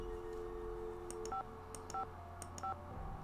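Telephone keypad tones from the video game Nancy Drew: Secret of the Scarlet Hand: three short, evenly spaced beeps over a faint steady hum, with no talk.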